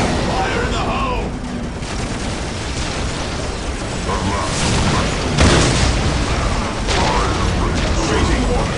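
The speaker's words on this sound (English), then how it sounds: "Let the grenade fly! Fall in! Fire in the hole!" Repeated grenade explosions in Warhammer 40,000: Dawn of War, loud booming blasts and battle noise rolling one after another, with several sharp bursts over a dense, continuous din.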